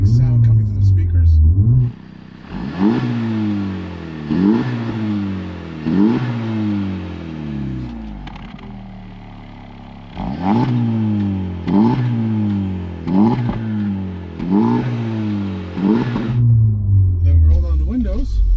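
Honda Civic Type R FL5 fitted with an RV6 downpipe, running in R plus mode, revs repeatedly in rising and falling sweeps, loud and close, with a pause partway through and a driver talking between pulls.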